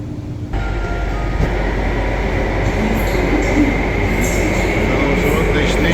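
Steady loud rumble of a commuter train ride in the morning, continuous wheel-on-rail roar with faint squeals and clatter, heard from inside the carriage throughout.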